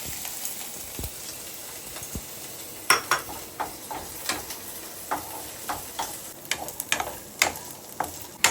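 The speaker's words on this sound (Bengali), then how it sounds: "রসুনটা একদম চিরবির করে উঠলো" Garlic frying in a hot pan for Bangladeshi bhorta gives a steady, close sizzle, broken by sharp scraping taps as it is stirred, several of them clustered in the second half.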